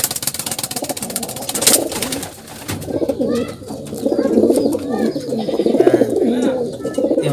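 Racing pigeons arriving at a loft after a race from Naga, Camarines Sur coo repeatedly in low throaty bursts, close and fairly loud, with a brief flutter or clatter early on.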